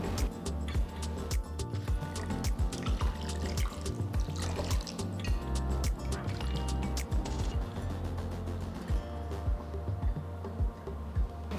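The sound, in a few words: pouring water to rinse cooked tapioca sago pearls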